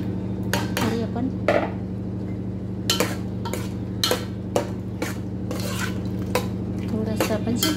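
Boiled vegetables are stirred into biryani in a pot: a spoon scrapes and knocks against the metal in repeated strokes, close and distinct over a low background hum, without talking.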